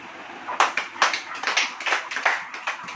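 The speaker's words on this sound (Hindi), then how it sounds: "ताली बजाइए।" A congregation at a Hindi-language church sermon claps along in a steady rhythmic beat, sharp repeated claps about twice per second, close and fairly loud with no talking.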